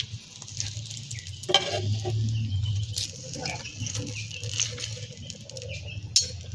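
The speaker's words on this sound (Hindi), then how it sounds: "अब हम अपने ये चीज़ बॉल भी इसी तरह ही फ्राई करेंगे।" Potato cheese balls sizzle steadily in hot oil, a constant crackling hiss with occasional light clinks from stirring or utensils, close up and without speech.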